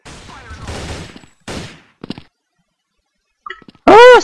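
Sniper rifle shots ring out in a Chinese first-person shooter game. A player talks in short bursts, then a single loud sharp gunshot lands near the end.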